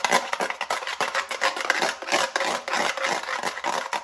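A hair mask mixture is whisked briskly in a bowl, giving rhythmic scraping and tapping strokes in quick repeated bursts, close and fairly loud, with no talking.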